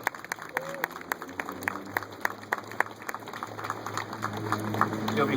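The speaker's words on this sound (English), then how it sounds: "Can we give them a big, big round of applause?" Audience applause at a city mayoral announcement event, sparse distinct claps building into a fuller crowd patter, moderately distant, with a low background hum.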